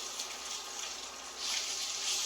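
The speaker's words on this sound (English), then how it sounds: "I'm going to go ahead and add in a little bit of bacon grease because I don't want it to stick" Saved liquid bacon grease pours into a pan for sausage gravy, a steady hissing trickle that swells slightly toward the end, close and alone.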